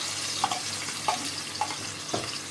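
Seasoning sizzles in hot oil in a saute pot for Jamaican saltfish and cabbage, a steady bright hiss broken by four light, evenly spaced clinks of a utensil against the pot.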